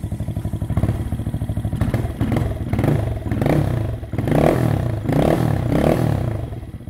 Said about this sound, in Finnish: Kokeillaan nyt, että miten tämä pyörä enää toimii, lähteekö käyntiin.